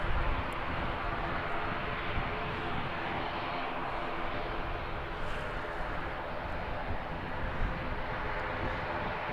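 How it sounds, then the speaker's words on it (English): An ATR turboprop airliner departs Christchurch Airport, New Zealand, with a steady, loud, broadband engine roar that holds evenly throughout and no voices over it. "ATR heading up to Wellington, operating into 5326"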